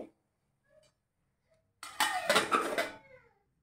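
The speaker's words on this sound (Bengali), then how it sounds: "দুধটা বয়েল হয়ে গেছে, এখন আমি ঢাকা দিয়ে রাখবো" A metal lid clatters and rattles onto a pot of freshly boiled milk, one brief loud burst of clinking after near silence.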